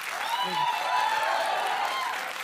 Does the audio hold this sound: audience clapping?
yes